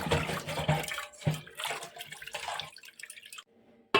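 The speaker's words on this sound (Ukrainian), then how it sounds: "Наливаю води" Water runs into a saucepan for boiling mushrooms, a steady splashing gush that slows to a thin trickle and then stops, with no talking.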